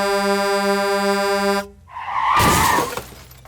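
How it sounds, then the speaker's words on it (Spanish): A tractor-trailer truck's air horn gives one long, loud, steady blast. It cuts off into a harsh crashing burst of noise. "tocó el claxon un tráiler"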